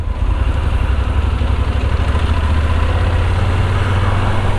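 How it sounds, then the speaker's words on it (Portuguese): A Yamaha Super Tenere 1200 motorcycle engine idles steadily nearby, a loud, even low rumble with a fast pulsing beat that holds without change. "O motor é uma sinfonia, galera. É um baita de um motor."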